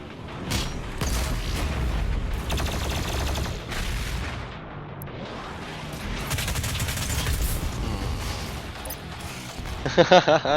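Automatic gunfire from a first-person shooter game, with dense bursts and loud booming blasts running steadily throughout, then sharper shots near the end.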